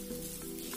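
Sliced onion and curry leaves frying in a pan over a high flame, a soft steady sizzle heard briefly and faintly with no one talking.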